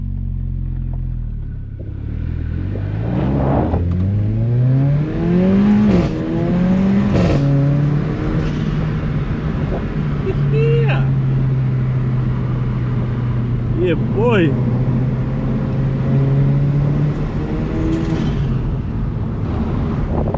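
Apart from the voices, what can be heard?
sports car engine induction noise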